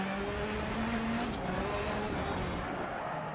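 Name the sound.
rallycross race cars driving over a jump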